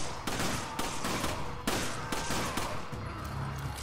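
Rapid bursts of gunfire from the Resident Evil 5 video game, set in the Harshlands, crack out in quick repeated volleys, loud and close, with several sharp shots spread across the stretch.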